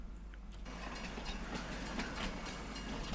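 A train moving in Farming Simulator 25, a faint, steady hiss and rumble of rolling rail cars heard alone.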